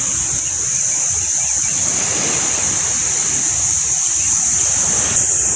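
Constant wind rushes and buffets the microphone in a steady, loud wash of noise, with a high hiss running throughout and no voices.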